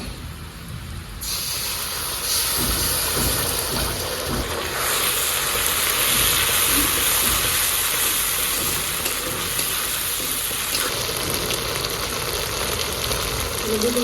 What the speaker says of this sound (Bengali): তেল গরম হয়ে গেছে এবার দু তেজপাতা জিরে শুকনো লঙ্কা তেলে দিয়ে দেবো